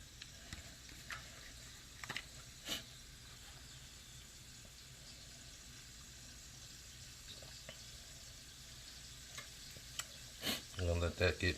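Six tablespoons of butter melting in a pan on a stove at medium-low heat, a quiet steady sizzle with occasional soft clicks and a cluster of louder knocks and handling noises at the end.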